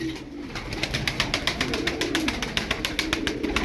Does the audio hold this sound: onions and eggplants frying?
no